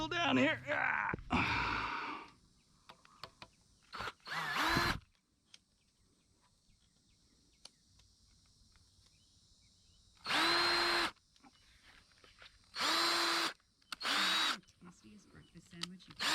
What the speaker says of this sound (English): Let my drill down here.